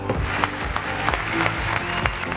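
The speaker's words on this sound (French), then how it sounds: "Je vous demande, s'il vous plaît, de faire un tonnerre d'applaudissements." Audience applause at a ceremony for an African development prize, scattered, uneven clapping under a low musical backdrop, moderately loud and brief.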